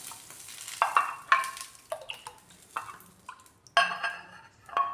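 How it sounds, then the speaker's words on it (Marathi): A spoon stirs rice flour dosa batter in a bowl, with soft wet scrapes and light clinks in uneven strokes, quiet and close, with no one speaking. "हे पीठ व्यवस्थित असं कालवून घ्यायचं, मिक्स करून घ्यायचं"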